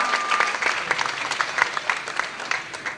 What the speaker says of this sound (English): let's give Dave a great big round of applause for helping us out today